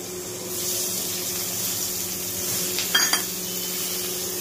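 Nigella seeds and a green chili sizzle softly in hot oil in a home kitchen, a steady low hiss with a couple of brief clinks near the end and no voices.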